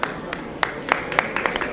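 Scattered applause from an audience at a community iftar gathering in Minnesota, honoring Ethiopia's general counsel; sparse, uneven individual claps over a low room murmur, moderately close and brief.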